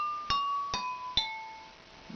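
Three pint glasses struck like bells in turn, sounding a descending scale: clear ringing tones spaced about half a second apart, each decaying gently, close and fairly quiet, no talk.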